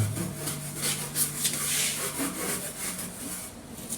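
Old wall plaster being scraped down to level it with fresh plaster, a steady gritty rasping that rises and falls in repeated strokes, moderately loud and close, with no talking.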